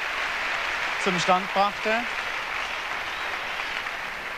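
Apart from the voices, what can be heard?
audience applause at a gymnastics balance beam event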